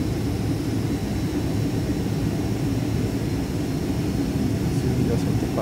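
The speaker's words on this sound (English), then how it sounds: "We're just gonna turn now so that we can line up for our takeoff." Delta jet airliner taxiing and turning at the end of the runway to line up for takeoff, a loud steady engine roar heard from inside the cabin, constant and unbroken throughout.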